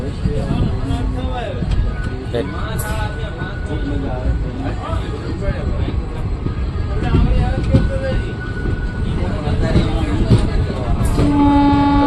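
A train pulls out of Chital railway station, a continuous rumbling rattle of wheels and carriages with a brief tonal horn-like note, heard close amid crowd noise and chatter.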